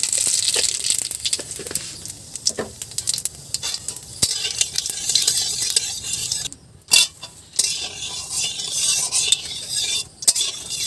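Jute leaves being stirred and fried in a pan, with a steady close sizzle under frequent scraping and clinking of a utensil against the pan, and a brief pause partway through.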